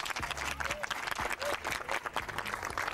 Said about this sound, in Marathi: आपण टाळ्या वाजवून शुभेच्छा देऊया यांना